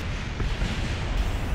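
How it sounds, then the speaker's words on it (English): A dense, continuous low rumble of explosions roars steadily in Kerbal Space Program, heavy and booming with no pauses, and no talking over it. "And explosions, yes."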